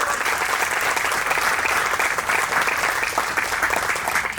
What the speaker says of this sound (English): an applause for all our amazing speakers here today.